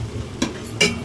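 A spoon stirs chili powder into drumstick leaves frying with garlic, giving two quick close scrapes over a low, continuous sizzle.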